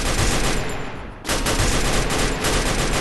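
Dense, loud gunfire in Garena Free Fire: rapid continuous shots with a brief dip near the middle, then sustained firing resuming up close, with no talk.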